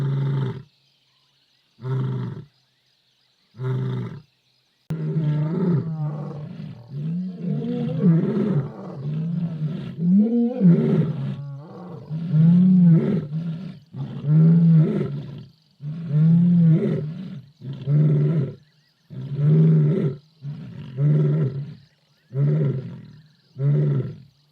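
Several wild lions of a pride roar together, first in separate loud bursts, then in a long, rhythmic chain of deep grunting roars close by, with no talking.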